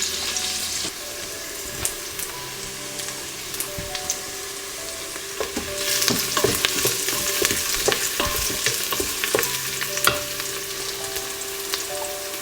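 Onions sautéing in a pan for bone broth, with a steady close sizzle and frequent scraping stirs that grow busier midway, and no talking.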